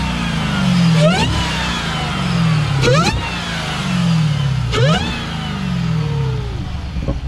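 Dodge Hellcat V8 revved hard three times with the hood open, each rising blip ending in a sharp crackle of exhaust pops, loud and close, then settling back to a rumbling idle.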